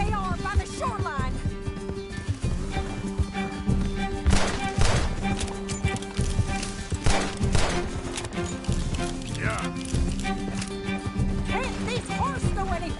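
Horses gallop in Red Dead Redemption 2, their hooves thudding in quick, irregular beats under game music and voices talking.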